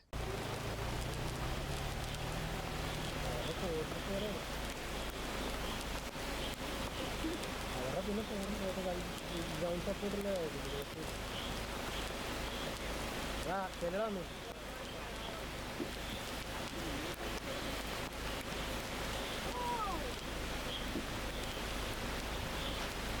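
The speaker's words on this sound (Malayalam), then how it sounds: "പ്രതീക്ഷിക്കാതെ പെയ്ത മഴയാണെങ്കിലും നല്ല ശക്തമായി പെയ്തുകൊണ്ടിരിക്കുകയാണ്" Heavy rain pours steadily on a forest road through thick Kerala woodland, a dense unbroken hiss that stays loud throughout while someone talks over it.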